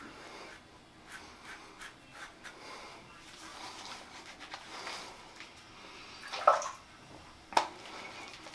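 Water washes over the face of a Japanese nodachi sword blade in a restoration, giving soft, close sloshing and rubbing with light splashes and two sharper drips or taps near the end.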